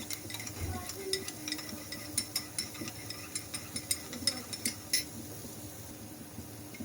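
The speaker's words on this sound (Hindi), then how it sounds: "ये दूध में कॉर्नफ्लावर 1 चाय का चम्मच ऐड करके इसको मिक्स कर लेते हैं" A teaspoon of cornflour is stirred into milk, with a spoon ticking and clinking against the bowl in a quick, steady run of light taps, faint and close.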